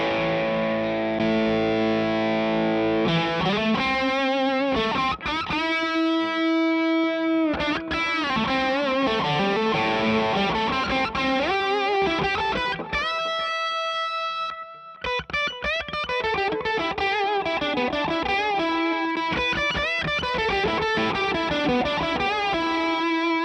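Overdriven electric guitar played through a Carol-Ann Triptik amp, switching from an overdriven rhythm channel to a lead channel, with a Catalinbread Echorec delay trailing the notes; loud, sustained riffs and lead lines fill the passage with no talking.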